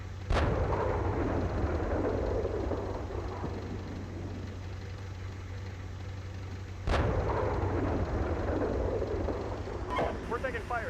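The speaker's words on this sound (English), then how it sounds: "We're taking fire here." Gunfire booms in two sharp, loud reports several seconds apart over a constant low engine drone, with voices talking through the clip.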